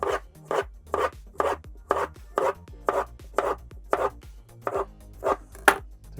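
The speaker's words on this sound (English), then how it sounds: "So what I'm going to do with this one is I'm going to cut it in half, like so." A knife cuts through fruit on a cutting board, making about a dozen crisp, evenly spaced slicing strokes close by, with no talking.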